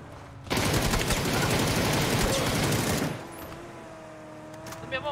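Rapid gunfire from a shooter video game: a dense burst of automatic shots begins about half a second in and keeps up for nearly three seconds, loud and close, then drops to quieter game ambience with a few faint sounds.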